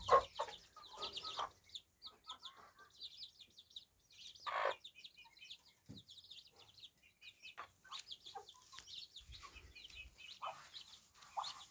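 A broody hen clucks softly among her peeping chicks, with scattered high chirps and short low clucks coming in irregular bursts at close range.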